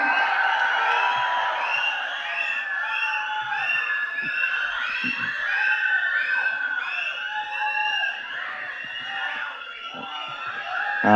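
A large crowd roars, whistles and whoops in a sustained wave as actor Sivakarthikeyan is welcomed onto the stage at the Garudan audio launch. The loud, shrill cheering persists throughout and eases slightly near the end.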